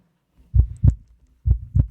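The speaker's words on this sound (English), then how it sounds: "Hit us with the heartbeat, Kyle." A heartbeat sound effect: two pairs of deep, thudding lub-dub beats, close and clean against silence, evenly spaced about a second apart.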